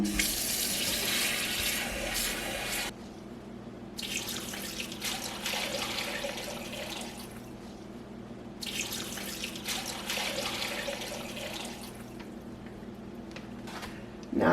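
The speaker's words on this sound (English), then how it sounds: "I'm adding my cool water first" Cool tap water gushes steadily into a container for turkey brine, pausing briefly twice before the flow resumes at full force.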